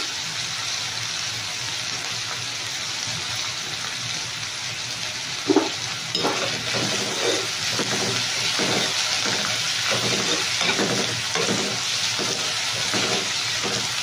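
Onions frying with curry leaves in a pan, a loud steady sizzle throughout, with rhythmic stirring scrapes joining midway and no talking.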